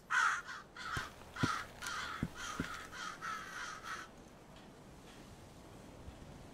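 A few crows caw in a repeated series in The Holyburn Witches, moderately close, over a faint ambient background, then trail off into quiet.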